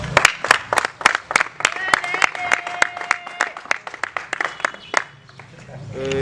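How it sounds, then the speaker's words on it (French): An audience at a political gathering claps in a sparse, uneven rhythm of distinct sharp hand claps, with a voice heard partway through and a low hum rising at the end. "on peut applaudir."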